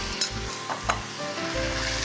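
Beef mince frying in a pan with ginger and garlic sizzles steadily, with a few faint scraping stirs and no talking.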